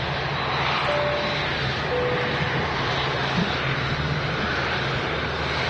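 A Boeing 787 Dreamliner at Manchester Airport, a steady, dense jet engine rumble holding level for the whole stretch with faint tonal whines drifting in and out.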